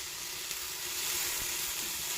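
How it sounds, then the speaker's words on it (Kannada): Eggs fry in a pan for an omelette, giving a steady, dense, close-up sizzle that holds evenly throughout with no talking. "ಚೆನ್ನಾಗಿ ಸ್ವಲ್ಪ ಫ್ರೈ ಆಗಲಿ"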